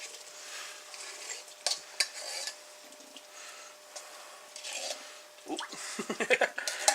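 A fork scrapes stuck coconut milk out of a can, making close, light scratching strokes that quicken into a rapid run of sharp metallic scrapes near the end.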